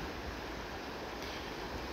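Water rushes steadily outdoors, a loud, continuous broadband wash close to the microphone with no voices or breaks.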